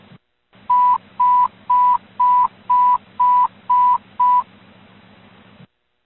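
Fire dispatch radio alert for Everett and Boeing fire crews at the Boeing Everett flightline: eight loud, evenly spaced steady beeps over a buzzing radio hum, followed by a brief quiet carrier tail.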